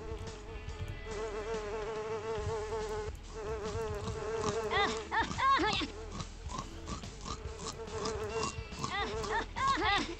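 Big flies buzzing close and loud, a steady droning whine with wavering pitch that swells and fades as they move around, with scattered voices underneath.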